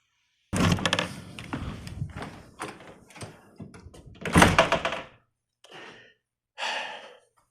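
A door opening as a visitor comes in, with scraping, clunking and rustling movement sounds in bursts, then two brief quieter knocks or shuffles near the end.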